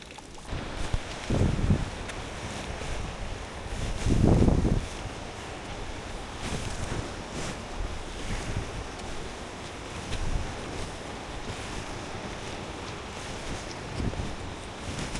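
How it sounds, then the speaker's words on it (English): Wind buffets the microphone on a hiking trail to Gocta Waterfalls in Peru, a steady breathy rush with a few louder gusts swelling and fading over fifteen seconds. "the wind"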